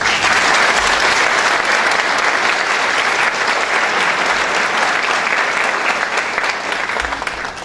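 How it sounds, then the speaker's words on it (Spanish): Loud, dense applause from a conference audience welcoming a speaker, a steady wall of clapping that holds for several seconds and then begins to fade at the end. "Quiero un aplauso para él, por favor."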